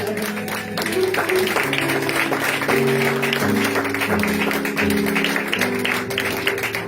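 A church congregation claps and cheers loudly for their pastor, a steady wash of applause mixed with voices and sustained musical tones underneath.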